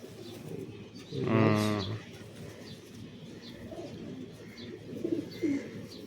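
Domestic pigeons kept for sale, including high-flying and giribaz breeds, give a clear rolling coo up close, followed by softer scattered coos, with someone talking lightly in the background.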